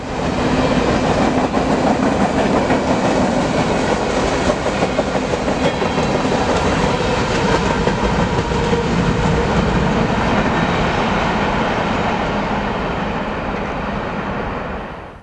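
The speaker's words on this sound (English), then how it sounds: "It's always interesting to see loaded well cars thrown in on mixed freights." A Kansas City Southern mixed freight carrying loaded well cars rolls by on the Shreveport Subdivision in North Louisiana, a loud, continuous rumble with rail clatter that holds steady and then fades slightly at the end.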